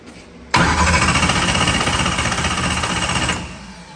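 A methanol-fuelled race car engine cranking over on the starter with the ignition coils off: a loud, fast, rough churning that runs about three seconds without catching, then cuts out.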